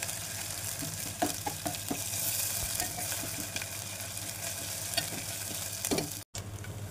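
Onions and ginger being stirred in a frying pan for omelette curry, a soft continuous sizzle with scattered scraping ticks from the spoon, close by with no talking.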